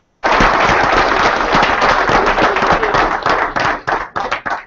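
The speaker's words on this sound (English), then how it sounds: "Give him a round of applause." Loud, close round of applause from an audience at a business meeting, starting abruptly with dense rapid clapping and thinning into uneven separate claps near the end.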